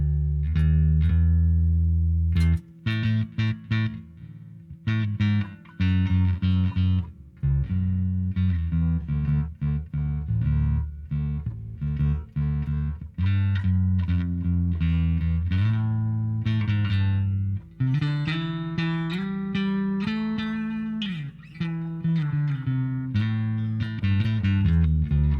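Temu kit electric bass played with both pickups switched on, a steady run of sustained, distorted-sounding notes and chords ringing loud and continuous throughout with no talking.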